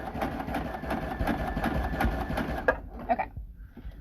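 Sashiko specialty sewing machine, on a Bernina quilting setup, running a long 4.5 stitch with a steady droning motor and rapid rhythmic needle clatter that stops abruptly near the end, followed by a few light clicks.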